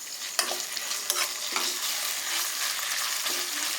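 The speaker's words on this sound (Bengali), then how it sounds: "আর একটু পেঁয়াজটারে ভাজতে নেব, তারপরে আমরা বাঁধাকপিটা এর মধ্যে দিই।" Shredded cabbage hitting and being stirred through onion frying in a pan with a little garlic and ginger, a steady bright sizzle broken by a few sharp stirring scrapes, close and continuous with no talk.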